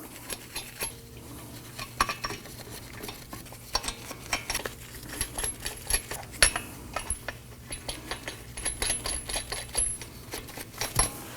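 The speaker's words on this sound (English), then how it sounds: "Let's go ahead and get all of our lug nuts started." Lug nuts threaded by hand onto the wheel studs of a 2018-2024 Toyota Camry, giving repeated light metallic clicks and jangles in an irregular rhythm, close and fairly quiet, with no voices.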